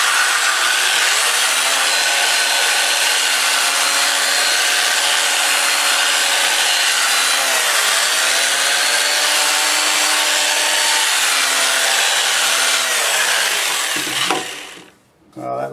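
Olive wood bowl turning on a wood lathe at about 550 RPM, a steady close hum with a scraping, rubbing texture running continuously before cutting out near the end.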